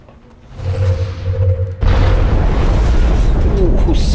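A blaster launcher shot in XCOM Enemy Within hums briefly, then erupts into a loud, close explosion that roars and rumbles to the end.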